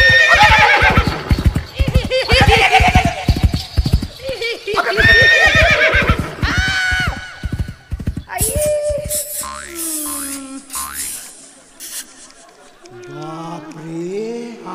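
A horse neighs loudly in repeated whinnies close by, mixed with hoof clip-clops and people talking over it.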